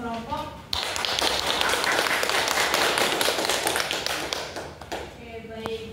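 Classroom applause for all the groups after their discussion presentations, a burst of clapping hands that starts abruptly and runs steadily for several seconds before fading out, with a voice heard briefly before and after.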